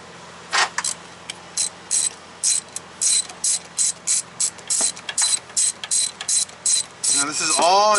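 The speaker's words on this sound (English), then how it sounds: "Extension here and a ratchet, so we'll do that in just a moment." A hand ratchet turning 13 mm bolts during removal of a VW Mk2 rack and pinion, with a rapid run of clicking strokes in a steady rhythm, close and clear in a quiet garage.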